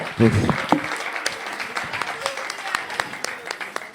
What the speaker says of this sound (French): On peut applaudir, on peut applaudir